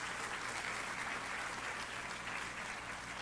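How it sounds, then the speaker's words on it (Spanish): Church congregation giving a sustained round of applause during a sermon, an even, continuous patter of many hands heard from a distance and fairly faint. "¿Cuántos le dan un aplauso a Él?"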